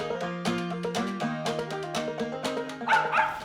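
A hunting dog bays steadily at a squirrel it has treed on a wooded ridge during a squirrel hunt, its barks ringing close and loud in a quick repeating rhythm with no talk over them.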